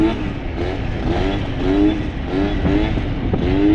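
Small scooter engine running at low speed and low revs while held up on a wheelie, a steady close buzzing drone with slight wavering pitch and no talk.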